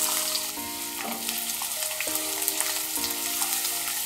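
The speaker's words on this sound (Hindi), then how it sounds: "चलिए तेल गरम हो गया है, ले लेंगे 2 प्याज लिया है ये मैंने इस तरह से।" Chopped onions frying in hot mustard oil in a kadhai for a chicken gravy, a steady bright sizzle running throughout, with a tuneful melody playing underneath.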